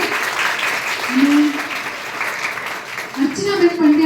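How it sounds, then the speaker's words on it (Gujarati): An audience at a college lecture and song event for a poet's birth anniversary claps in a sustained, fairly loud wash of applause, with a voice speaking over it. "આપણે જોરદાર તાળીઓ સર માટે પાડીએ"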